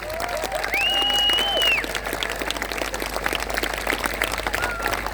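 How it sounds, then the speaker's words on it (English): A crowd at a hospital fundraising walk event applauds volunteers and staff by the stage, dense steady clapping throughout with whistles or cheers briefly rising above it early on. "give them a little round of applause too"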